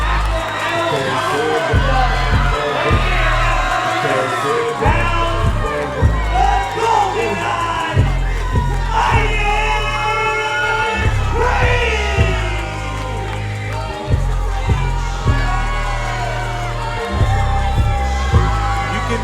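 A large crowd at a pro wrestling show in the Phoenix Theater cheers, whoops and bellows loudly and continuously, with surging shouts rising and falling throughout.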